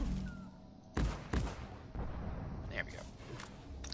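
Booming weapon fire in the sci-fi mining shooter Deep Rock Galactic, with several heavy blasts close together over a dense, noisy battle backdrop.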